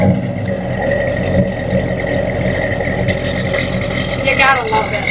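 A 1978 Mustang II King Cobra with a 302 V8 engine runs loud and close with a dense, steady rumble. It rises briefly near the end, and a voice can be heard under the engine noise.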